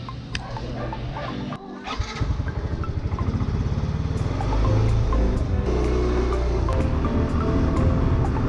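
A 2020 Honda ADV-150 scooter engine runs nearby, a steady idle that rises in a loud, even throb, with chickens clucking faintly in the background.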